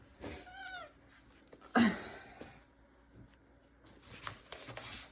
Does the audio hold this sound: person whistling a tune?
no